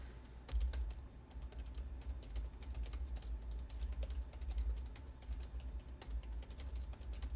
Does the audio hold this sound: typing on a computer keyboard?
yes